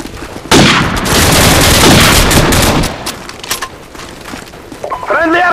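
Airstrike explosions in Call of Duty 4: Modern Warfare, a loud sustained barrage of booms and crackling blasts that gives way to scattered gunfire, with a voice briefly heard near the end.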